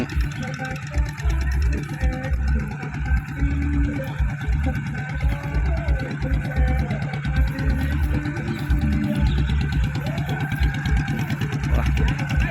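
A small single-cylinder walk-behind tractor engine chugs steadily nearby in a fast, even putter, running continuously without pause.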